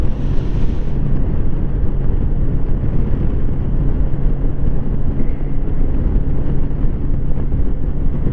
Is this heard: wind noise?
yes